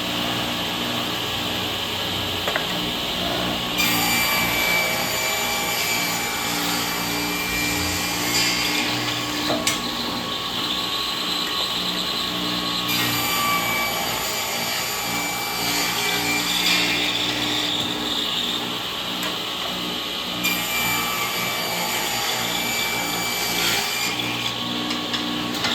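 A table saw ripping thin 5/16-inch strips of wood for a cutting board, with a steady motor whine and three long, loud cutting passes separated by brief idle stretches.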